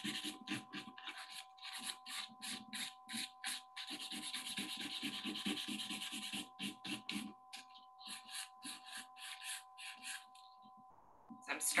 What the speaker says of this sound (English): I like to angle my file at a 45 degree angle for my free edge and file in a downward motion to create a nice bevel